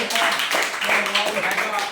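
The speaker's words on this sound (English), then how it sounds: "give applause to the last group" Clapping from a group audience after a question session, a dense steady patter filling the whole span with voices and excited chatter mixed in.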